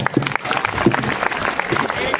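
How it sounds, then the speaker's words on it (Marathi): An audience at a devotional kirtan gathering claps loudly for the woman kirtan performer, a steady close patter of hands with voices talking over it throughout. "ताईसाठी एकदा टाळ्या वाजवा जोरदार"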